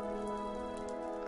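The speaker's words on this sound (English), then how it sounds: "You'll notice there's water falling through gaps in my giant black wool cloud" Steady rain falling from a giant black wool cloud built as a weather control device in Minecraft, a continuous close hiss of raindrops hitting surfaces with no break and no talking.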